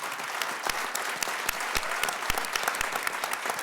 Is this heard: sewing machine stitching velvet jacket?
no